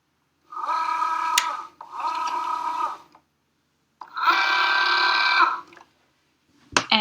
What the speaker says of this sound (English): I'm just going to load it into the machine so it can check that I've cut the right size